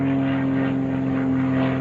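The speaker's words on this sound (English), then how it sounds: "another loud plane going by." Loud propeller airplane passing overhead, a steady droning engine hum with a strong tonal whine, continuous and fairly close throughout.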